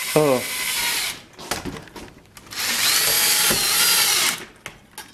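A power drill whines loudly in two long bursts, driving long screws all the way through wood, with brief pauses and faint talk between runs.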